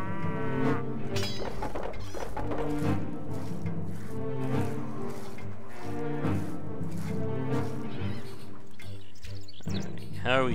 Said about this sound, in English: Some more cows.